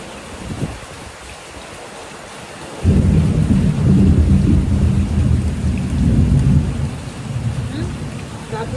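Heavy rain sets in abruptly and pours steadily alongside a deep rumble of thunder, loud at first and then slowly easing, with a faint voice heard briefly before the downpour.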